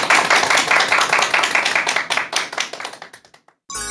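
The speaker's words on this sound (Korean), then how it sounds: "큰 박수로 강연 청해 듣도록 하겠습니다." A lecture audience welcomes the speaker with close, dense clapping that thins out into scattered claps and stops after about three seconds, followed by a brief burst of other noise.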